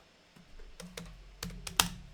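Computer keyboard keys clacking in a short burst of typing while code is written, several distinct near, crisp taps with uneven gaps, a few louder strokes near the end, no talking.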